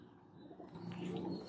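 Teddy breeder pigeons cooing softly, a few low rounded coos rising in the second half over a quiet room background.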